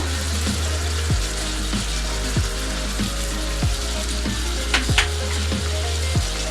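Ground coriander, cumin, chili, pepper and turmeric sizzle in oil in a pan for a taro and hilsa curry, a steady frying hiss with periodic scraping thumps of stirring throughout.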